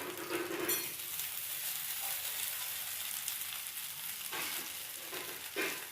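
Raw banana slices shallow frying in a little oil on a tava, giving a loud, steady, close sizzle with brief scraping touches now and then and no voices.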